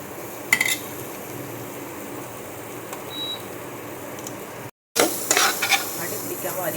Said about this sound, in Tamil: கொஞ்சம் நல்லா சிம்மிலே வச்சு வதக்கி எடுத்துக்கலாம்